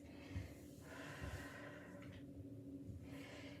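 Slow breaths drawn in and pushed out during a squat-and-stretch workout, soft airy inhales and exhales close to the microphone with quiet background noise.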